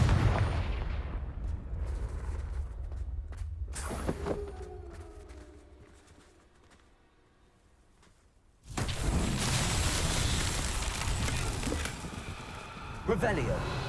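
Confringo blasting spells erupt in the video game Hogwarts Legacy: a sharp blast, then a quieter lull, then a long stretch of loud, dense crackling explosions amid game sounds.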